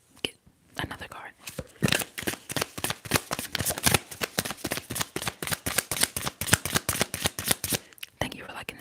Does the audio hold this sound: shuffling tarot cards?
yes